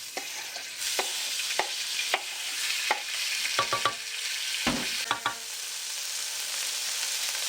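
Pork sears in a tablespoon of peanut oil for a stir fry, giving a loud, steady hiss broken by repeated sharp scrapes and clacks of a utensil stirring the pan.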